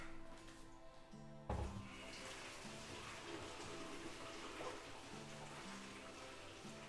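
Pasta water poured through a clip-on strainer attached to a pan, a steady continuous splashing and gushing of water that starts with a sudden thud and runs loud and even throughout, with faint low tones in the background.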